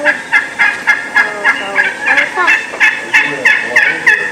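Wild turkey hens call near a hunting setup with decoys, backed against trees, giving a steady series of sharp, rhythmic yelps, roughly two per second, close and clear with no talk.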